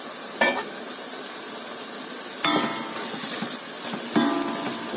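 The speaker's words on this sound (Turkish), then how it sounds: "tenceremin kapağını açtıktan sonra tekrardan karıştırıyorum" Lamb and mushrooms fry in a pot for a mantarlı kavurma, with a steady sizzle under the stirring. Three sharp utensil scrapes and clinks stand out against the pot, spaced about two seconds apart, and nobody talks.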